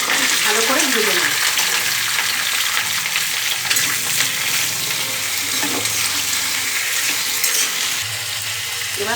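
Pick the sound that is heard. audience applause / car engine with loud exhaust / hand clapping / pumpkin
pumpkin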